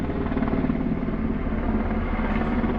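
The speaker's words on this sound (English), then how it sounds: "that's a fucking giant helicopter" A giant helicopter flies overhead outside a gallery, its loud, continuous rotor and engine roar filling the whole stretch with a steady low-frequency throb and no speech.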